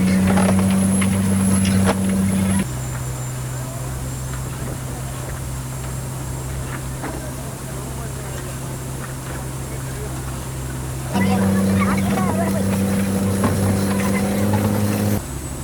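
A fishing boat's engine runs steadily at sea off Alappad while the net pays out, a loud droning hum that drops to a lower, quieter tone for a stretch and then rises again near the end.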